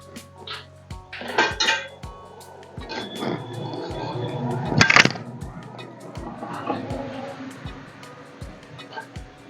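A chapati pan is shifted off a home kitchen stove with several metallic clanks and scrapes, the loudest knock coming near the middle, while someone talks over the clatter.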